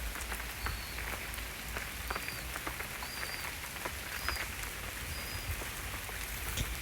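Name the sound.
rain still falling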